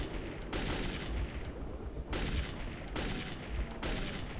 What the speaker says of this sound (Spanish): Tiros precisos.